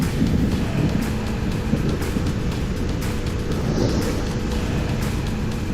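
Dual sport dirt bike cruising on the highway at 100 km/h and about 7,000 RPM, heard as dense, steady engine and wind roar throughout.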